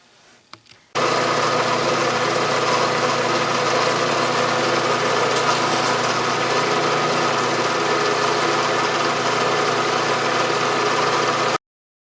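Milling machine with a long, slender 5/8-inch solid carbide 5-flute end mill cutting steadily, a dense continuous grinding hum and whine that starts abruptly after a second and runs unbroken before cutting off sharply.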